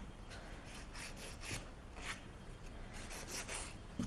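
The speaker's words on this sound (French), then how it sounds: "Donc on vient avec la lime arrondir le tout." A nail file rounds off the shape of an acrylic nail in short, quick back-and-forth rasping strokes, close and steady, without any talking.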